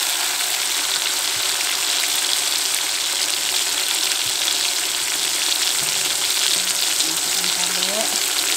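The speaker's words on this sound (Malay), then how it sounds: "Kita tumis dulu tomatnya nih karena udah diiris tadi kan." Sliced tomatoes sauté in a hot pan with oil, giving a steady, close sizzling and crackling throughout with no pauses.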